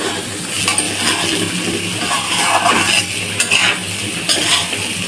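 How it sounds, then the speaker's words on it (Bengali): Whole garlic cloves are stirred into dal frying in a pan, with continuous sizzling and a few sharp metallic scrapes and clinks of a utensil against the pan, close and steady with no talking. "এবারে কয়টা আস্তা রসুন দিয়ে দেবো, ডালের সঙ্গে ভাজার সঙ্গে আস্তা রসুন দিয়ে দেবো।"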